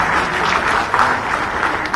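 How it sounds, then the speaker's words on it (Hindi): An audience at a sports policy event in Ranchi gives loud, sustained applause to honour athletes. The clapping is a dense, even roar with no break. "एक बार जोरदार तालियों के साथ उन खिलाड़ियों का सम्मान करें"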